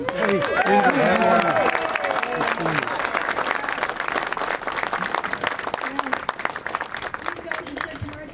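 A crowd claps warmly to welcome Freeholder Director Margaret Nordstrom, loud dense applause that gradually thins and fades over several seconds.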